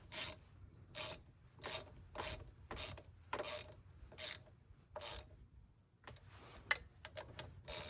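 A ratchet snugging thermostat housing bolts on a 3.6L Pentastar V6, clicking in a steady run of short rasping bursts, then a quicker, rougher flurry of clicks close by.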